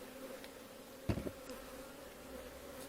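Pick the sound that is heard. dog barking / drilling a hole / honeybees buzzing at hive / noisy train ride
honeybees buzzing at hive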